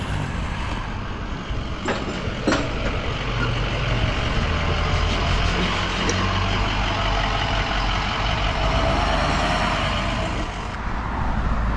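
A truck engine rumbles steadily while an underground oil tank is offloaded from the truck, a constant low drone with a couple of brief sharp knocks and no talk.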